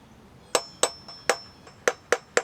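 Pistons from a failed Ford 302 engine, pulled during crankshaft removal, drop and knock as six sharp metallic impacts, spaced irregularly, each with a brief ringing decay. The impacts are close and loud, with no talk.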